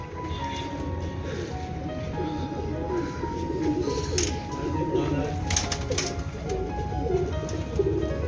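Golden pigeons coo steadily at close range, their low rolling calls repeating over a busy background with some voices talking nearby.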